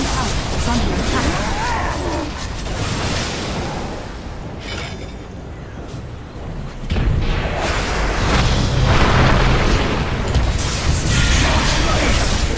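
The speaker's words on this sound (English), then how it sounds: "Dire's bottom tower is under attack." Dire's bottom tower comes under attack in a Dota 2 esports match, and booming impacts and battle effects sound through a dense, noisy mix. The clash gets louder midway, and voices are likely mixed in.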